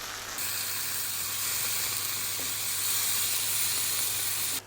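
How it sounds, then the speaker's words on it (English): Steady, loud sizzle of food frying in a pan for a steak sandwich, a continuous hissing wash that holds evenly for several seconds before cutting off abruptly. "Fry it off a bit more."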